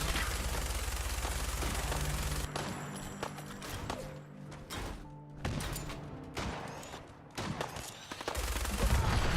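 Enemy gunfire in the Fallout video game: repeated shots in bursts and single cracks, loud and close, with explosive low-end thumps, no talk.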